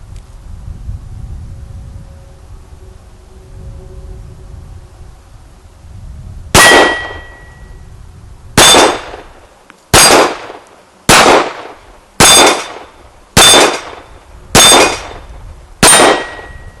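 A Sig Sauer P938 compact carry pistol fires eight shots at steel targets outdoors, each crack followed by a ringing metallic clang, spaced about a second apart after a long pause, with light wind in the background.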